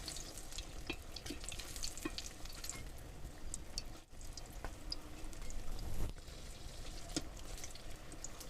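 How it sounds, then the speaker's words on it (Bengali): Battered chili pakoras fry in hot oil, giving a soft, continuous sizzle with scattered small pops and crackles, fairly faint and close, as they are turned now and then, with no one speaking. "উল্টে পাল্টে আমি পকোড়াটা লাল করে ভেজে নিচ্ছি।"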